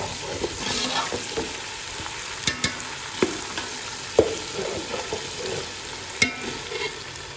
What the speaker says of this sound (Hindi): ये जो मिर्चें डाली थी वो अच्छी तरह से भून चुकी हैं।